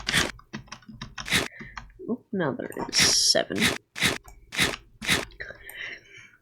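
Fire ants munching on a cricket leg in the video game AntKeeping Simulator, heard as repeated short crunchy bites and chewing bursts mixed with a person talking over them.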